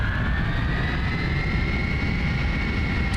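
Engines of an L-1011 airliner in the Prepar3D v5 flight simulator roar steadily, a loud continuous low rumble with a sustained whine rising slightly over a few seconds.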